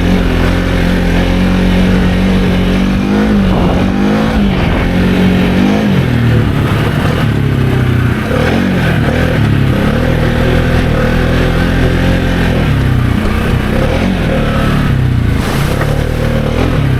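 A 2023 Can-Am Outlander XMR700 ATV on 32-inch Aztec tires revs hard in high range while trying for a wheelie. The loud, close engine surges and dips in repeated pitch swings, with no voices over it.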